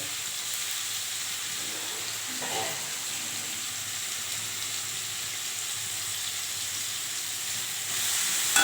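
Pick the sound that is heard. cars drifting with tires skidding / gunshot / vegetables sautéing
vegetables sautéing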